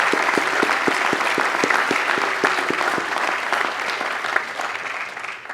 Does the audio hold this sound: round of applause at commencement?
yes